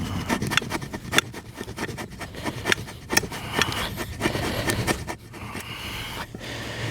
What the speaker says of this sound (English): I'm gonna go ahead and scrape a little more of this fat wood off here